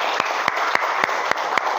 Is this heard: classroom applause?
yes